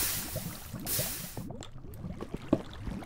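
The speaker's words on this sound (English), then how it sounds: "I do hear water though, so that's promising. There's water right above us." Flowing water from a Minecraft underground cave: a steady, moderately loud watery wash with bubbling, sloshing texture. Faint scattered clicks and taps sit under it, and no one speaks.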